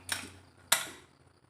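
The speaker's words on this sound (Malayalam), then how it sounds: "കുക്കർ അടച്ചു കൊടുക്കാം കേട്ടോ." A pressure cooker lid being closed while making Kerala-style beef curry: two sharp metallic clicks about half a second apart, close and moderately loud, with no talk.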